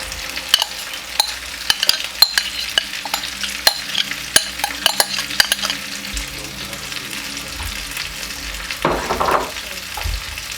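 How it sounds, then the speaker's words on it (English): Sautéed peas for vegan rasta pasta take in a milk and cheese mixture, with a soft pan sizzle under sharp spoon taps and scrapes against the pan, then a brief louder stir near the end. "So I'm gonna add my mixture of my milk and cheese in there right now"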